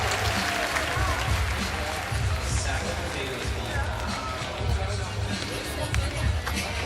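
Crowd applause and cheering fill a skateboarding contest arena, a steady, dense roar of clapping with a low rumbling undertone that holds for the full stretch without pause.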